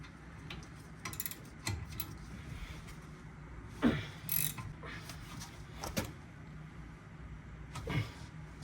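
A ratchet clicks in short, sparse bursts while being turned on the brake caliper of a VW Taos, with metallic ticks spread out and close by in a quiet garage.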